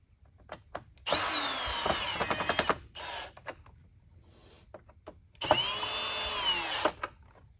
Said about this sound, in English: if you do use a drill to put your machine back together, just make sure you go nice and slow